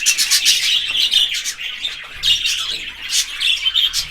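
Budgerigars squawk and chirp in a steady stream of shrill, rapid calls, close and fairly loud, with a few harsher bursts around the middle and no voices.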